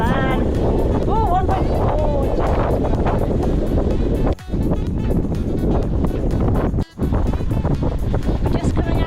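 Strong wind buffeting a sailing boat heading out of the Sound of Mull near Tobermory, a loud, steady roar of gusts and rushing water that never lets up, with two short dropouts and a voice speaking over it.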